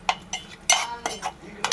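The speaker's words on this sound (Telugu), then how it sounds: "మంచిగా ఇలా కలుపుకోవాలి" A utensil stirs turmeric into onion paste in a pan, making several short scraping and clinking strokes in an irregular rhythm, close and fairly loud.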